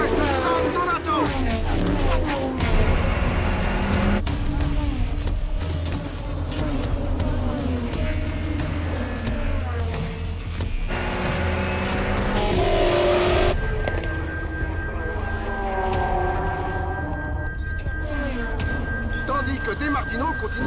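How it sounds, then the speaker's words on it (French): Race cars surge off the start in a tight pack toward San Donato, the first corner at Mugello, engines howling and tires squealing, loud and continuous, with a commentator talking over them throughout. "Les voitures s'avancent groupées à l'assaut du premier virage de San Donato."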